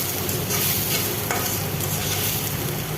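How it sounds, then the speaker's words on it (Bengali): Chopped onion frying in hot mustard oil, a loud, dense sizzle with scraping stirring strokes throughout, close up and with no voices. "তেলটা একটু গরম হওয়ার পর আমি পেঁয়াজ কুচিটি দিয়ে দিব"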